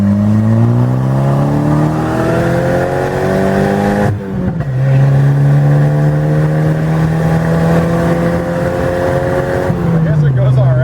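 Loud, close turbocharged wagon with an open exhaust pulling hard in second gear, engine note climbing steadily, a brief dip at a shift, then rising again, with someone talking over it.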